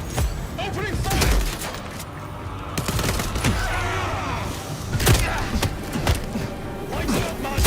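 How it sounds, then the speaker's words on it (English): Gunfire in Vampire: The Masquerade - Bloodlines 2, with repeated sharp shots and bursts over a busy game mix, alongside shouted voices. "Opening fire!"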